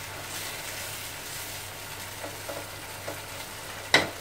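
Stirring fish paella with soy sauce in a frying pan: a steady sizzle and soft scraping of the utensil run throughout, with a few louder strokes and a sharp clink near the end.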